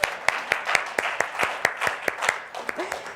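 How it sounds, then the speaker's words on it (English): A small group claps together in a therapy session, sharp individual claps spaced steadily at about four per second for a few seconds, close and fairly quiet with no talking over them. "Give yourselves a hand."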